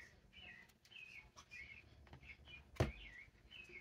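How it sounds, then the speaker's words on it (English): An outdoor bird calls loudly, repeated chirps and whistled notes in an irregular rhythm, with one sharp thump or flap near the end and no talk. "This bird is loud."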